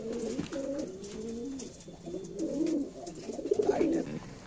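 Large pigeons coo in soft, repeated throaty rolls at close range, several phrases following one another over a quiet background.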